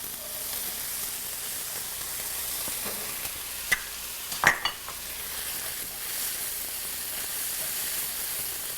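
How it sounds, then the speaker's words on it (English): Sliced onion with ginger and garlic paste sautés in a pan, giving a steady hiss and sizzle, with a few sharp clinks and scrapes of stirring midway. "We should let the onion, ginger, garlic infuse their flavors into each other and get cooked and sauteed a little"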